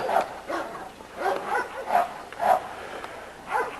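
Young puppy giving a series of small yipping barks and whimpers, about six short evenly spaced yaps, close and fairly loud.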